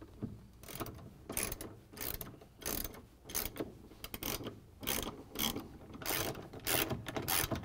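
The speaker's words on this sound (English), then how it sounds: "We're going to use the ratchet with the extension in a 3 inch socket again and take out the bolts to hold the pump on." Ratchet with an extension and socket turns out the bolts holding a GE washing machine drain pump, giving repeated bursts of close, rapid clicking separated by short pauses.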